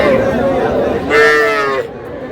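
Young bull and heifer calves low at a busy cattle market in Madaripur, one drawn-out nasal moo rising clearly over a backdrop of bargaining voices and crowd chatter.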